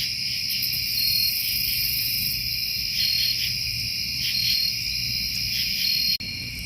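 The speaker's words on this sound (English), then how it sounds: "hearing the sounds of August, all the crickets, katydids, and other bugs and critters" Crickets, katydids and other insects chirp at night by a lakeside campsite in August, a steady high-pitched pulsing chorus that fills the background with soft rhythmic trills layered over one another.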